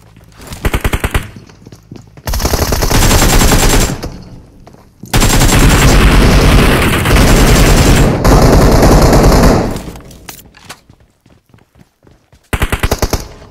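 Gunfire in the PUBG Mobile battle royale game, heard as loud sustained automatic bursts of several seconds each, broken by short gaps and a few brief single shots near the end, with no talk.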